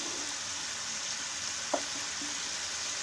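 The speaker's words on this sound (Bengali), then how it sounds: "মশলাটা প্রায় কষানো হয়ে আসছে।" Spice paste for hilsa fish curry sizzles and fries in a pan, a steady close crackle with one brief stir or scrape partway through and no talking.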